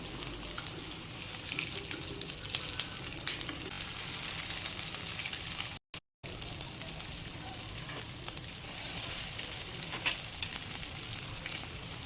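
Farali cutlets fry in a pan with a steady, close sizzle full of small crackles and pops, broken only by a brief silent gap halfway through.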